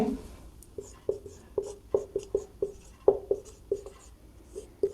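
A maths formula is handwritten on a board, heard as a run of crisp, close taps and short strokes in an uneven rhythm, about a dozen distinct marks over a few seconds, with no talking.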